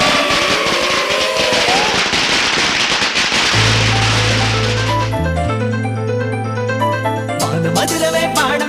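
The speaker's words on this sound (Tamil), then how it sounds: "பட படவென பட்டாசு வெடிக்குது" Diwali firecrackers burst in rapid crackling volleys that fade as a festive song with steady tonal music rises beneath and takes over, the pops thinning out toward the end.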